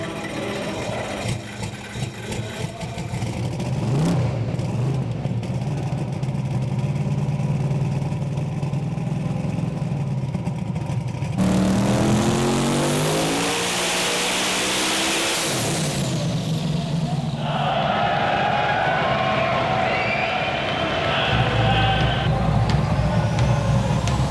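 A roughly 3500 hp twin-turbo or supercharged engine on a dyno roars loudly and continuously, climbing through high revs in long sustained pulls with a harsh, buzzing exhaust note.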